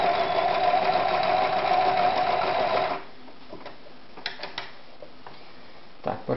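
A Privileg Super Automatik 5021 sewing machine stitches a seam with a loud, steady mechanical whir for about three seconds, then stops, leaving quiet room tone broken by a few soft clicks and handling taps.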